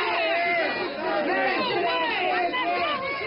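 A heated crowd at a city council meeting, many overlapping agitated voices shouting and talking at once in a steady, loud roar with no pauses.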